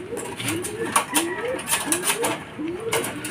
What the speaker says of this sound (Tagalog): Ayan mga kalapatids.